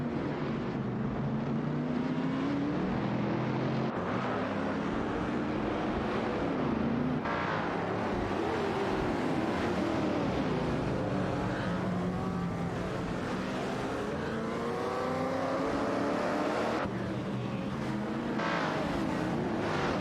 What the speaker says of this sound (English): Amundsen in the Holden Munara 73 is locked in a tight battle with Barbado in the Shelby GT3 150 for 13